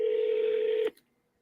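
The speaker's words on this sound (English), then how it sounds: "So about to dial them up right now." A telephone keypad tone sounds as one steady, loud dialing beep for almost a second, cut off sharply and followed by near silence.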